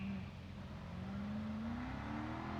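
A Cadillac ATS-V drift car on Achilles tires at a Formula Drift qualifying event in Atlanta: a steady engine drone that climbs gradually in pitch, moderately distant and somewhat muffled.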